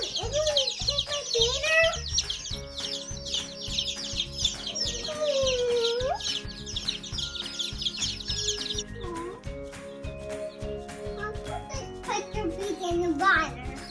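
Speckled Sussex baby chicks, just collected from the post office, peep continuously with shrill high chirps close by, while a child and an adult talk over them and a steady rhythmic background beat runs underneath.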